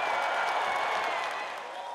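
Crowd at a Trump campaign rally cheering and applauding, a steady dense wash of clapping and voices that holds throughout and fades slightly toward the end.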